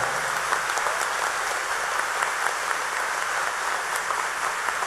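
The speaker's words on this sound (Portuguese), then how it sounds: "Vai aplaudindo, aplaude mais forte. Aplaude para que todos possam escutar lá fora." A Catholic congregation at a Cerco de Jericó prayer gathering applauds loudly and steadily, a dense, continuous wash of many hands clapping together that stays even for the whole stretch.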